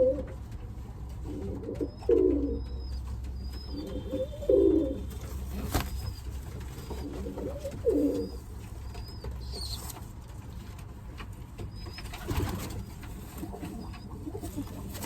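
Racing pigeons, including a Hughes blue cock bird, coo in a loft. Soft throaty coos repeat every couple of seconds, joined by a brief wing flap and faint chirps in the background.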